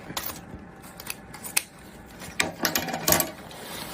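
Scissors snip through 1-inch wired ribbon for a pink and lime bow, a few crisp close cuts with soft handling rustles between them, no voices.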